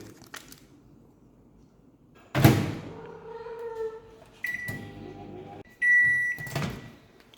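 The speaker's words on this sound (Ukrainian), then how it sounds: "А ось цю частину треба поставити у мікрохвильовку на 30 секунд." A microwave oven hums steadily while heating food for 30 seconds, with a door clunk and a few sharp electronic beeps of the control panel; no voices.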